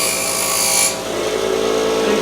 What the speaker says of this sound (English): Yeah, so I'm going to grind this off a little.